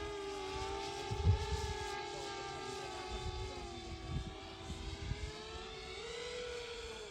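A small FPV drone flies nearby with a steady high-pitched propeller whine whose pitch rises and falls as the pilot throttles, joined by low thumps and handling noise.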